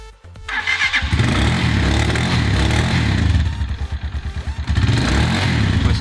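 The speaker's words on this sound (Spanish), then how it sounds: "ya otra vez la motocicleta funcionando" A repaired motorcycle engine that had been stalling and losing power runs close by, loud and steady, with a rapid chugging stretch before it evens out again; no talking.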